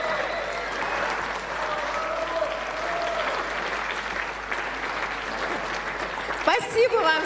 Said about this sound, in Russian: Спасибо вам всем за аплодисменты.